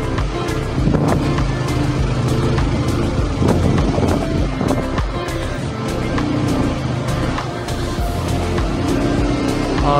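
A car overtakes another vehicle on the winding Bopdev Ghat road near Pune, engine and tyre roar with wind buffeting the microphone, steady and loud throughout with a few sharp knocks, and no clear talk.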